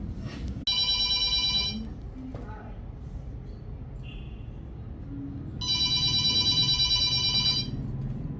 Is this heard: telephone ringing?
yes